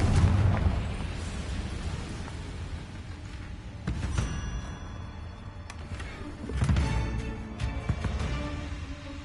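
The Confringo blasting spell exploding in Hogwarts Legacy, heavy rumbling booms with a strong burst at the start and further swelling blasts and crackles midway, over a continuous low game rumble.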